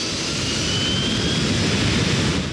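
A jet airliner takes off from runway 16, its engines holding a loud, steady, broadband roar throughout with no voices on top.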